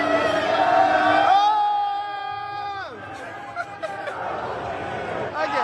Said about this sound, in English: Ah, that's it. I'm joining the crowd.